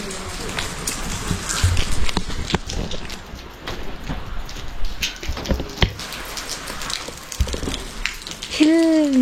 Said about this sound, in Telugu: ఇప్పుడు వర్షం పడుతుంది.